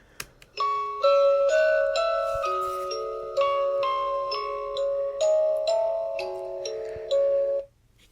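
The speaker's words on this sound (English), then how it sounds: "her music box, the song that will play when this is triggered will sound something like this." A GEC Paratech Spirit Music device plays a motion-triggered tinkling music box tune, a slow, simple melody of bright chiming notes in steady rhythm, close and clear, ending abruptly.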